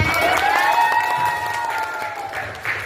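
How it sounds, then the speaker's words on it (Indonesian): Classroom applause from students after a group presentation in an Indonesian school lesson: brief, fairly faint clapping mixed with scattered voices and chatter over under three seconds. "Iya, kita kasih tepuk tangan."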